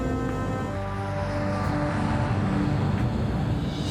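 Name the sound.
airliner taking off from the runway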